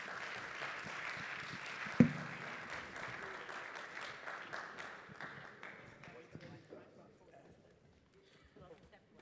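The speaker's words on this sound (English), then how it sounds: "let's give them another round of applause" Forum audience applauding a panel, a moderately close burst of clapping with one sharp knock early on, thinning out and fading to scattered claps, with voices underneath.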